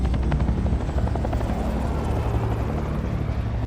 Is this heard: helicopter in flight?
yes